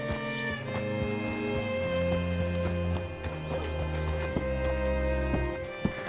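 Horse hooves clip-clop in Red Dead Redemption 2, a moderate walking rhythm under a sustained musical score, with a few sharper knocks near the end.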